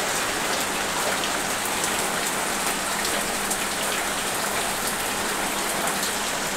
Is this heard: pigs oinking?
no